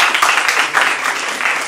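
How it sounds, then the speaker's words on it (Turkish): Audience applause in a talk-show studio, a brief burst of dense, even clapping from many hands that stays loud and close throughout. "O zaman bir alkış, güzel bir alkış alalım şöyle."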